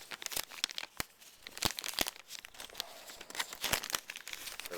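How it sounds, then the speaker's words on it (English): A plastic bag crinkling as anime DVDs are packed back into it, with sharp irregular rustles and crackles close to the microphone. "Now, getting these back into this plastic bag is hard."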